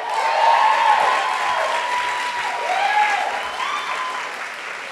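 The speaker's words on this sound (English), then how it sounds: "Just applaud them." Dense, sustained applause from a large standing audience at a student journalism awards ceremony, loud and continuous throughout with no speech over it.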